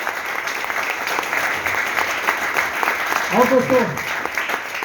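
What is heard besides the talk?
audience applause for management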